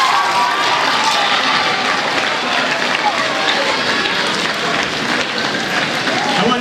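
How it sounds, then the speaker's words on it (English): Applause from a school assembly audience at a ceremony, a broad wash of many hands clapping with crowd noise and some voices mixed in, loud and sustained throughout. "let's give everybody another big round of applause"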